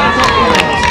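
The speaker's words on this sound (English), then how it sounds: "Crowd trying to get something going." Crowd at a 1996 high school regional championship softball game between Plattsburgh and Malone, cheering and shouting steadily for a brief moment with swells of noise, voices blended into a continuous roar.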